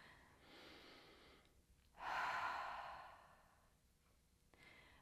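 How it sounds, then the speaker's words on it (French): A deep breath drawn in slowly during a mindfulness meditation, followed by a loud, long, breathy exhalation that swells and then fades, with softer breaths before and after. "Je prends tout le temps aussi un grand respire en expirant bruyamment pour vraiment relâcher la pression."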